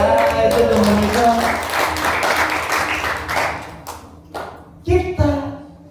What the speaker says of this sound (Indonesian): Tepuk tangan dong ya, itu teman kita.